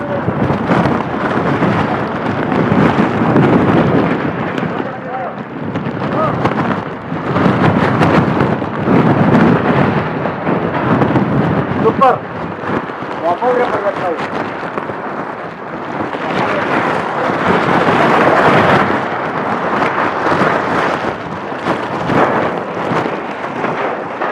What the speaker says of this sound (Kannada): ಗಾಳಿ ಜಾಸ್ತಿ ಐತಿ